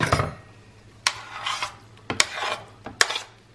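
Pasta in tomato sauce with mozzarella stirred in a pan, giving three or four separate scraping, rubbing strokes of a utensil against the pan, close and moderately loud with quiet pauses between.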